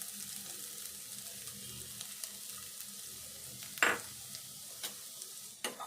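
Grated carrot frying gently in ghee over a low stove flame, a soft steady sizzle with a few sharp stirring scrapes and clinks.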